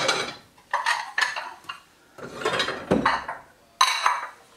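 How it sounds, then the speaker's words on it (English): Bowls handled and stacked while a kitchen is being decluttered, a series of close clinks and clatters of dishes knocking together in irregular bursts with short pauses between them. "Bowls, bowls, bowls."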